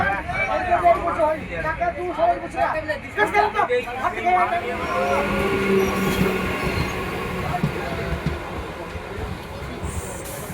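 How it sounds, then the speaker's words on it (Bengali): A train rumbles and clatters while slowing into Bahadurpur station in Nadia, West Bengal, wheels squealing faintly, with a crowd of voices chattering loudly nearby in the carriage. "ট্রেন ঢুকছে এখন বাহাদুরপুর স্টেশনে"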